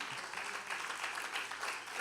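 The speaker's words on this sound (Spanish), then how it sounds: "Dele una ofrenda de palmas al Señor." Congregation in a church gives a sustained round of clapping as praise, a fairly soft, continuous patter of many hands with no voices on top.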